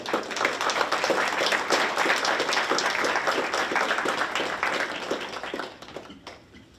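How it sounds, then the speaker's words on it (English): Applause from the audience at a West Chester Area School District board meeting fills the room, dense and steady for about six seconds before tapering off near the end. "you're going to get another round of applause"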